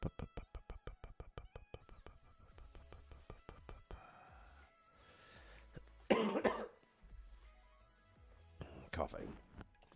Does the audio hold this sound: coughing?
yes